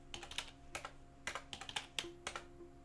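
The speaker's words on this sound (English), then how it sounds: "I'm just typing some stuff in." Computer keyboard keys clatter in quick irregular bursts while someone types answers during a Lingo word game, close and crisp, with short gaps between runs of keystrokes and no talking.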